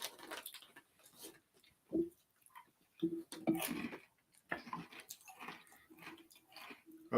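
Crunchy cinnamon cereal snack being chewed close up, irregular crisp bites and crunches scattered over several seconds with quiet gaps between them.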